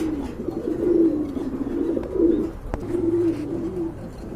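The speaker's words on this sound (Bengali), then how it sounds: "এখানে কিন্তু আরেক জোড়া কবুতর আছে ড্যানিশ কবুতর" Low, rolling coos of Danish pigeons repeat steadily through the clip, close by, with a brief soft knock partway through.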